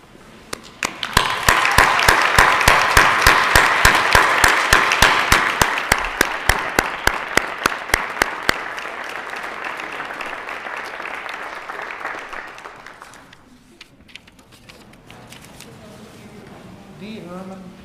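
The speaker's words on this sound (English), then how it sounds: "I would ask you to stand and join me in giving him a round of applause, a small token of our appreciation." A standing audience at a board meeting applauds in a long, dense burst of many hands, loud at first, then thinning and fading away before faint murmurs at the end.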